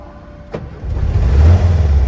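A Bugatti's engine cranks and catches after a failed start, a short click giving way to a low, swelling rumble that grows louder and steadier toward the end, close by.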